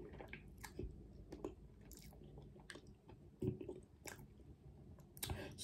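Soft, faint squishy chewing and biting of a Twix cookie bar close to the mouth, with irregular crunchy bursts and wet mouth sounds and no talking.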